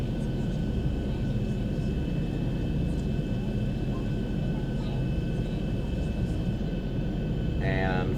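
Steady, loud airplane engine roar during a go-around climb-out near Seattle Airport in a VR flight simulator, a continuous broadband drone that holds constant throughout with a faint brief tone near the end.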